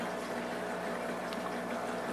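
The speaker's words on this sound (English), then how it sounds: "the water just flows right out of the top of it into the container here" Steady trickle of water flowing from the top of an aquarium sponge filter into a container, a continuous soft bubbling wash with a faint hum underneath.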